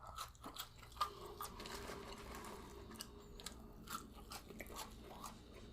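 Crunchy fries chewed close up during a mukbang meal of Italian beef sandwich and onion rings, with steady mouth crunching and soft smacking throughout and no talking.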